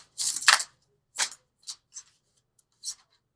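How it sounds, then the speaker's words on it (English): Angel oracle cards are shuffled in short bursts of papery riffling and flicks, one longer burst followed by several brief, quiet ones separated by silence. "Okay, keep shuffling."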